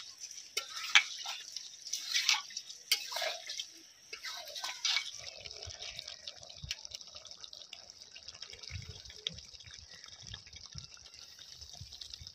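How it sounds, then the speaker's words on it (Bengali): Rice is washed by hand in water, with close, soft splashing and dripping that is busier at the start and settles into faint, sparse swishes and trickles. "চালটা ভালোভাবে পরিষ্কার করে ধুয়ে নিচ্ছি।"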